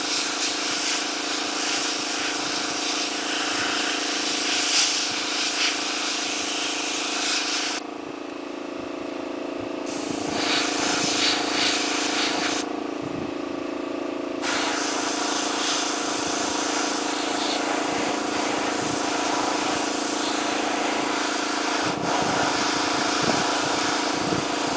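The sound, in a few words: airbrush spraying white paint on resin Han Solo bust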